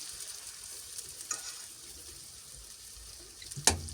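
Quiet, steady sizzling of batter frying in oil, with a couple of brief clinks of a utensil against the pan.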